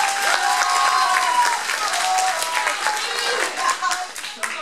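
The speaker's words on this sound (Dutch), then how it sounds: "Frank heeft zelfs weer gefilmd, dus ook even applaus voor Frank" Audience applause at a farewell gathering in the Netherlands, with dense steady clapping from a crowd lasting several seconds and a few voices mixed in before it thins slightly at the end.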